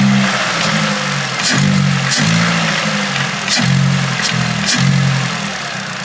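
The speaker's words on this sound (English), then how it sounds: "I can hear the engine like a bit more raw in the engine." A Vauxhall Corsa fitted with a new Ramair performance air filter runs loudly up close, a steady engine drone broken by several short revs that rise and fall, with no speech over it.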